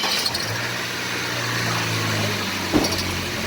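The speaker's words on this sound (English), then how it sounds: "start the vehicle" A car engine cranks and starts, then settles into a steady idle during a pressure gauge check, a low hum running close and even with a brief bump near the end.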